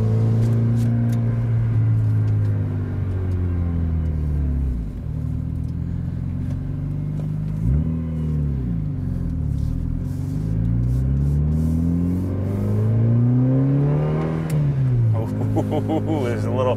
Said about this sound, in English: This exhaust is pretty good.